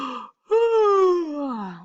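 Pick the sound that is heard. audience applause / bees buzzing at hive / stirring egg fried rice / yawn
yawn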